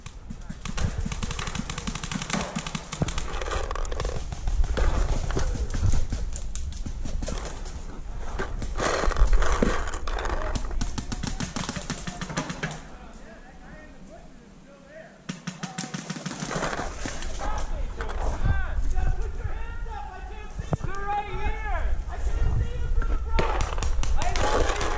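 Paintball marker shots in a wooded field during a paintball game, scattered pops amid outdoor gameplay noise with a voice talking over parts.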